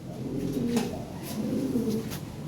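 Blue Lahori pigeons give soft, low cooing calls in a couple of gentle rolling phrases, heard close and fairly loud over a faint background hum.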